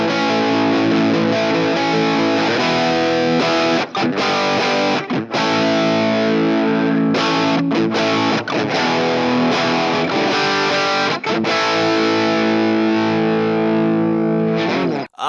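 An electric guitar runs through the 80s setting of a Joyo BAATSIN 8-in-1 overdrive pedal, giving a loud, bright, distorted tone with biting highs. Chords and riffs play continuously and alone, with brief gaps between phrases.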